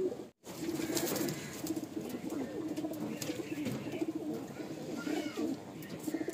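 Madrasi pigeons coo in a steady low murmur as they are released from a loft in Garia, Kolkata, with a brief fluttering of wings and a short gap of silence near the start.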